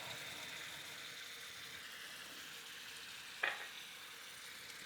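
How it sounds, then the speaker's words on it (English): Lemon and lime juice hitting a hot sea scallop pan to deglaze it, a steady broad sizzle throughout with one brief sharper burst of spatter near the end, no voices. "I think I'll just use the lemon and lime to deglaze this"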